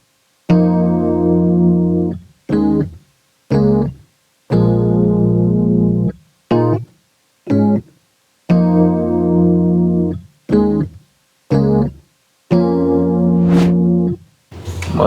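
A Rhodes electric piano from Keyscape, classic preset with chorus, plays a simple pattern of sustained chords alternating with short stabs, clear and close with brief silences between phrases.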